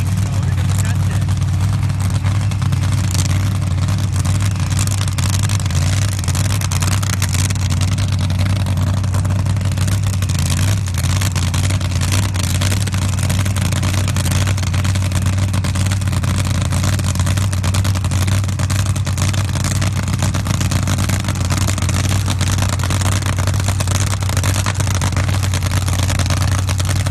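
A tuned drag racing car engine at a 2016 SCSDA Pro Bracket event at Soboba drones loudly and continuously throughout, a thick mechanical roar with an announcer talking over it.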